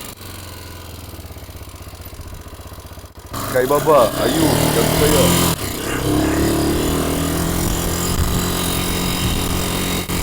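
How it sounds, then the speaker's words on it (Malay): A motorcycle starts up and runs loudly while a Cane Corso dog chases it. After a quieter opening with someone speaking, the engine drones steadily under continued talk. "Biar dia kejar motor."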